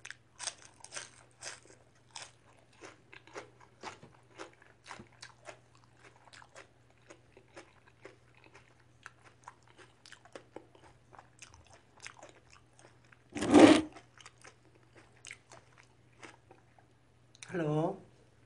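Food being chewed and crunched while eating, with several faint bites through the first part and two loud, close crunches near the end, over a low steady hum.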